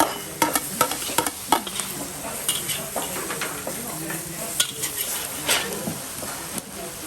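Garlic and ginger sizzle in a hot pan while a utensil stirs, scrapes and clinks against the metal in quick, irregular strokes, close and fairly loud.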